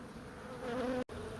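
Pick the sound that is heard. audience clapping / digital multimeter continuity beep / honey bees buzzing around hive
honey bees buzzing around hive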